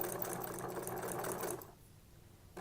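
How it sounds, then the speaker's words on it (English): A sewing machine with a walking foot runs steadily through knit fabric for a Halloween candy tote, a close, even whirring stitch that stops abruptly about two-thirds of the way through, leaving quiet. "So watch, I'm just gonna sew it a little bit."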